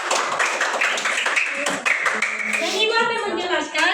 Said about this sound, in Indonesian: Oke, betul sekali, tepuk tangan.